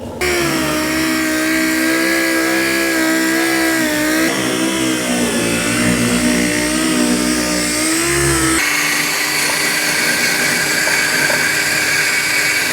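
Dual-action sander working over the bare metal body of a GTO restomod, a loud continuous whirring drone with shifting pitch as pressure changes, steady and close throughout with no talk.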